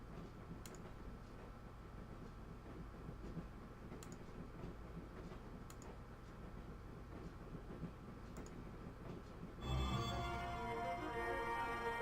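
In Broken Sword, a train rolls steadily along with a low rumble and faint periodic clicks of the wheels over rail joints, then a sudden louder burst of rattling near the end.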